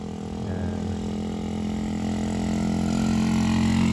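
Motorcycles pass on a road near a resort, a steady mid-pitched engine drone that swells gradually and stays loud and close throughout.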